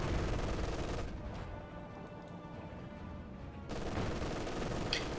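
Aircraft cannon fire rakes the ground in Company of Heroes 2, a dense rapid crackle of shots that thins briefly in the middle before surging again, with one sharp bang near the end.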